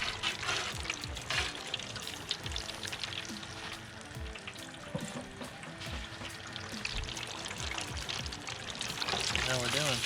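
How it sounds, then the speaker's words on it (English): Grease dripping from fried fish lifted out of a fryer back into the hot oil, heard as a loud, steady sizzle and crackle that continues without a break. "I'm gonna take it out of the fryer. Right over here, let some of that grease drip out of it."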